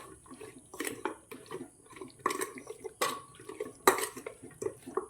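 Raw chicken pieces tossed by hand in a light maida flour coating for shallow frying, giving soft, wet squelches and clicks against a bowl, with a few sharper knocks, close and fairly quiet, no talking.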